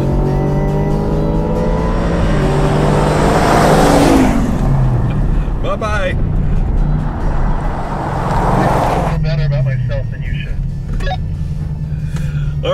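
A car floored and accelerating hard at night, engine roaring loud and close as it climbs through gears with shifts, steady high intensity throughout with a person talking over it.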